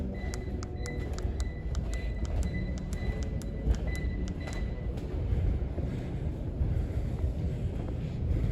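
Canarm ceiling fans at Savage Mill in Savage, Maryland, running at high speed, giving a steady broad rushing whoosh of moving air with a low rumble and faint regular ticking, continuous throughout with no talking.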